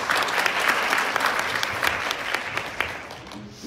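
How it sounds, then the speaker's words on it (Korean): Crowd applause at a Korean social welfare policy forum, steady clapping from a room of attendees that gradually thins and fades toward the end. "이렇게 귀한 발걸음 해주신 이성수 부회장님께 다시 한번 큰 박수 부탁드리겠습니다."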